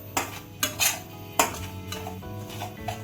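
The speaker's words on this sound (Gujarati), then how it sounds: "આ રીતે થોડીક હલાવતા રહેવાનું અને સેલો ફ્રાય કરી નાખવાનું." A spoon stirs food shallow frying in a pan, giving a few sharp metallic scrapes and clinks against the pan over a low steady background, close and fairly loud, with no talking.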